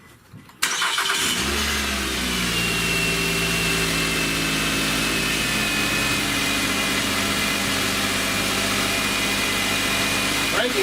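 A 2010 Nissan Altima engine cranks and fires up after a short quiet moment, then settles into a steady, close idle that runs evenly to the end.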